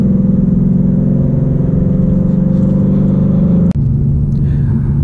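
A manual 2019 Mustang GT accelerating hard, its loud, close engine roar climbing steadily before a sudden brief break for a shift and then pulling on again.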